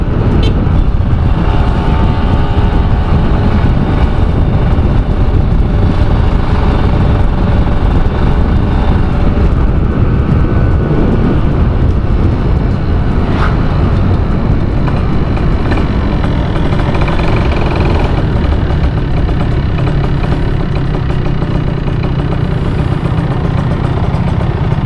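A Kawasaki Ninja 150 R motorcycle on a solo ride gives a continuous, loud engine drone mixed with road and wind noise, steady throughout with no talking.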